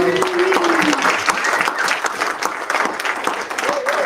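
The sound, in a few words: applause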